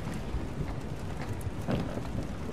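Steady rain in the video game Detroit: Become Human hisses and patters continuously with a low rumbling undertone, dense and fairly close, no voices.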